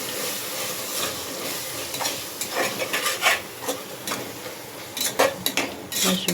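Ginger garlic paste frying in oil for vegetable pulao, stirred with repeated scraping and clattering utensil strokes over a steady hiss of sizzling, close by with a busier burst of clinks toward the end.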